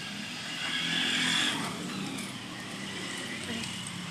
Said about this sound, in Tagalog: May sasakyan.